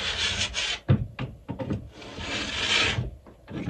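A metal file scraping along a ski's steel edge during tuning, repeated rasping strokes of varying length, close and clear with brief pauses between passes.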